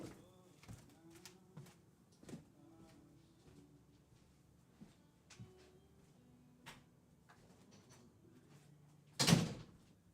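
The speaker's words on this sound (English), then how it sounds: "Let me close the door" A door being shut, heard as a loud thud near the end after several light knocks and clicks, with faint background sounds throughout.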